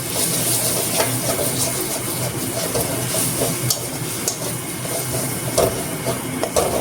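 Masala sizzles steadily on medium heat while being sautéed with ground black pepper and chili for a Bengali fish kalia, a continuous close hiss broken by small popping crackles.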